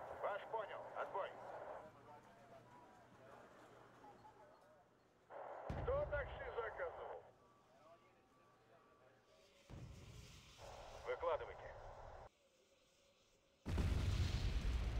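Artillery strike explosions in a mech combat video game, a few heavy booms arriving in separate bursts between quieter stretches, with a voice talking over part of it.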